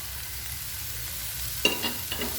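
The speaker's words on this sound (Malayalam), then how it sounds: "ഇനി ഇതൊരു ഗോൾഡൻ കളർ ആവുന്ന വരെ നമുക്കൊന്ന് വഴറ്റി കൊടുക്കണം." Onions sautéing with ginger, garlic and green chili in a pan: a steady low sizzle throughout, with a few short stirring scrapes near the end.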